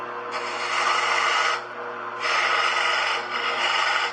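A lathe tool is pushed into spinning wood to cut a tenon, producing three loud rasping, scraping bursts separated by brief quieter gaps.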